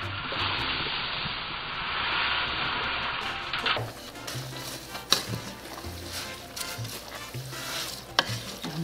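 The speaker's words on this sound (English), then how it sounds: "now I'm gonna add the rice" Washed rice is added to a pot of tender, seasoned meat for Puerto Rican arroz con gandules, a loud close sizzle and rushing pour followed by stirring scrapes and clinks, with no talk.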